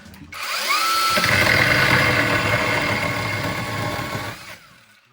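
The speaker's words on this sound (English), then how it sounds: "Here we go again, chainsaw time." A chainsaw cuts into the center of a piece of wood at an off-grid cabin. It runs steadily and loudly for about four seconds, then winds down, with no talk over it.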